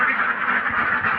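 Farm ducks kept for eggs quacking in a dense, continuous chorus, close and loud, filling a short moment with overlapping nasal calls.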